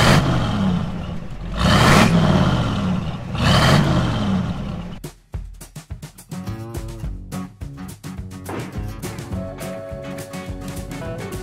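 A 1971 Ford F100 truck engine revs loudly through two rising surges, then settles into a rough, clattering idle with uneven mechanical knocks, heard close.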